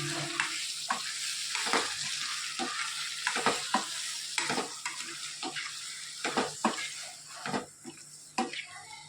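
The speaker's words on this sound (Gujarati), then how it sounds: "સરસ બધું મિક્સ કરી દઈએ." Spices for pulao are stirred in a pan, each stroke making a sharp scraping knock at an uneven rhythm over a quieter background sizzle.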